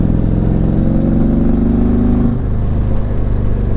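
A Harley Street Glide trike with a 121 engine pulls hard in 4th gear, its loud, close engine rumble rising steadily before the pitch drops as the throttle eases off.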